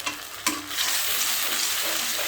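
Ginger garlic paste with cloves, cinnamon, cardamom and bay leaves hits browned onions in hot oil and breaks into a loud, close, steady sizzle after two quick clatters of a spoon. No one speaks.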